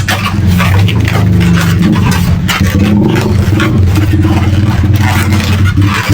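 Motorcycles pass on a road in the Philippines late at night, their engines rumbling and rising in a steady, fairly close drone with some rattling.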